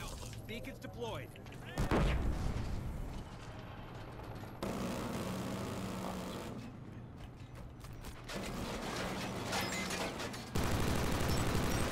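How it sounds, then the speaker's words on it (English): Gunfire and a grenade explosion in Killzone Shadow Fall online multiplayer at a factory map: sharp loud blasts and bursts of shots amid clanking mechanical noise, with scattered voices. "A random stupid grenade!"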